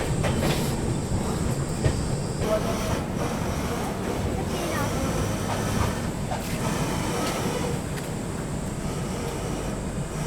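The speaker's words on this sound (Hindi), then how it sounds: "अपनी काशी विश्वनाथ एक्सप्रेस पहुंच चुकी है पिलखुआ रेलवे स्टेशन पर" The Kashi Vishwanath Express pulls into Pilkhuwa railway station with a steady heavy rumble of coaches and wheels rolling over the track, a continuous loud wash of rail noise with faint clatter.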